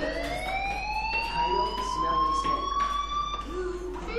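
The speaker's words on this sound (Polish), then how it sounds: "do you hear that fire alarm? That means you should be outside." A fire alarm in the video game Life Is Strange rings as a steady, continuous electronic wail, with a faint voice briefly underneath.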